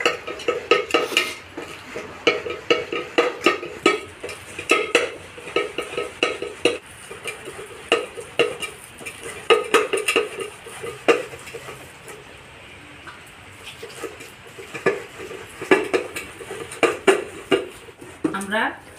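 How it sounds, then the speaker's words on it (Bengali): Palmyra palm fruit rubbed by hand against a perforated metal plate with water added, a string of uneven scraping, squelching and clinking strokes up close, while a voice talks at times over the work. "আমরা ঝাঁঝরি থালা নিয়েছি তালটা ঘষার জন্যে, যাতে আঁশগুলো না ভিতরে পড়ে।"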